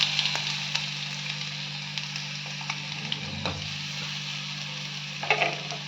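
Steady sizzle of ground paste frying in hot oil after mustard seeds have popped, for dhal rasam, with occasional sharp pops and crackles and a low stirring scrape, close by.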